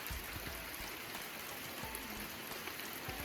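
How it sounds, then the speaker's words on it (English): Rain falling in a mountain campsite, a steady dense patter of drops on surfaces with a few soft dull thumps underneath, no voices. "it's starting to rain and it's thundering off in the distance a little bit"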